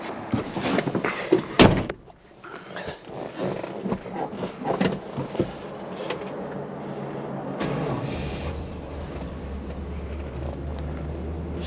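A 1968 Plymouth Fury with a 383 V8 gets a loud door thud and clatter, then a pause before the big engine cranks and settles into a steady, low, rumbling idle that holds to the end.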